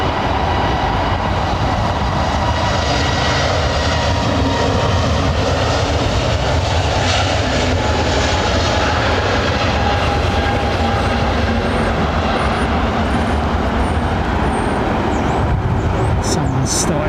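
Aircraft engines starting and running at London Heathrow Airport, a loud continuous roaring rumble with a steady whine that persists unbroken for over fifteen seconds close by.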